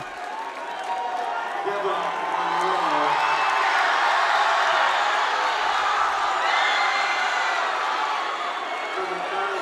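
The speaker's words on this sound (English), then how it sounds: "You can hear the roar of the crowd as the reserves come in to finish the game." A crowd roars continuously at a high school basketball game between Lander and Riverton as reserves enter late in the game. The cheering and shouting swell loudly and steadily, with scattered clapping mixed in throughout.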